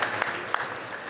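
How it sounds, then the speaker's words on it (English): Crowd applause across an arena at a varsity ice hockey game as a player gets back up, a steady wash of clapping with a couple of sharper claps, heard fairly clearly with no talk over it. "Nice claps for him all across the building here."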